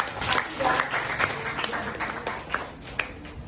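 A classroom of students applauding during a lesson on heart disease, a lively round of clapping from a group, close and fairly steady, fading slightly with a couple of sharper claps toward the end.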